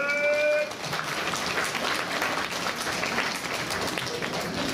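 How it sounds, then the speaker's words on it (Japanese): Audience applause at the Turtle Talk show at Tokyo DisneySea, a steady wash of many hands clapping at moderate volume, briefly overlapping a short sustained voice or tone at the start. "みんな拍手しようぜ"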